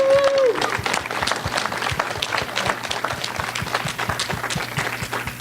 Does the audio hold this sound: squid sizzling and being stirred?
no